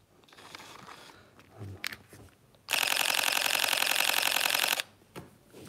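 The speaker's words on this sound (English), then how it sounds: "drive setting, which is 11 frames per second with the mechanical shutter" Fuji X-T3 firing a mechanical-shutter burst at 11 frames per second: a loud, rapid, even rattle of shutter clicks lasting about two seconds, close up, with quieter handling sounds before and after.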